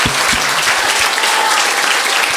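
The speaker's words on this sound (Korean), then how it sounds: "하나님께 감사와 영광의 박수를 올려드리겠습니다" A church congregation applauds, a full, steady wash of many hands clapping together throughout, loud and sustained without a break.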